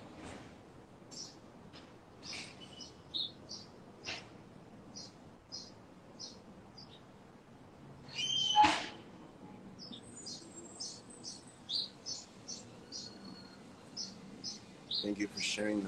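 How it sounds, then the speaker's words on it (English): Small birds chirp outdoors in short, scattered high tweets across a quiet background, sometimes close and sometimes farther off, with a brief louder rustle partway through. "these birds, they're reacting. Some actually came over."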